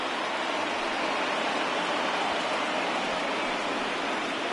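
A stadium crowd of over 39,000 in a baseball video game roars in a steady, continuous wash as a perfect game nears its end in the ALCS against Cleveland, with no clear voices on top.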